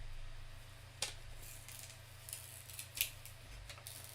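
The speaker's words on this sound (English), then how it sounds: "I'm going to go ahead and peel off this from the iron-on" Iron-on vinyl is peeled off its transfer sheet, giving a few faint crackling, tearing rasps spaced apart over a quiet background hum, close but soft.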